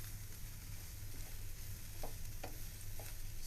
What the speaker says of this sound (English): we're just going to saute all the spices into the cauliflower